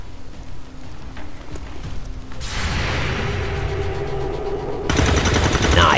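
Gunfire in the XCOM video game during a firefight near a church, a sustained burst of rattling automatic shots followed by a louder second volley, with mechanical clatter and no talk.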